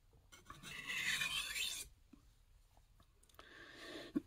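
A knife drawn across a sharpening stone in a high angle pass makes two soft rasping strokes, a longer one and then a shorter one, separated by silence, with a small click at the end.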